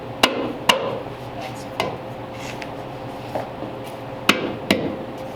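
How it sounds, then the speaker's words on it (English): Metal hammer blows strike a chrome car wheel at irregular intervals, sharp clanging strikes over a steady background hum in a workshop. "I like your OSHA approved hammer."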